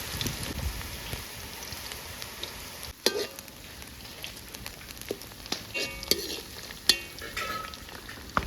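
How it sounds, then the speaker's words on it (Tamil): Onion pakoda batter deep-frying in hot oil, a steady close sizzle with bubbling, punctuated by sharp clinks and scrapes of a utensil stirring in the pan, no voices. "இப்போ வந்து அதை வந்து எண்ணெயில் போட்டு பொரித்து ஒரு பிடிக்க வேண்டியதுதான்"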